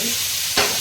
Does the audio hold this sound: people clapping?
no